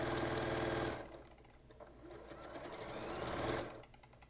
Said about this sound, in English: I just start sewing with a 1/4 inch seam allowance